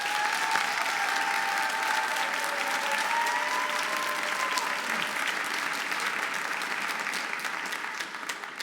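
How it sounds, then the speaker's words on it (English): Steady, full applause from a concert audience at a school winter orchestra concert, honoring the freshmen and seniors; sustained dense clapping with a few voices, easing slightly at the end. "Can we give the freshmen and seniors a round of applause?"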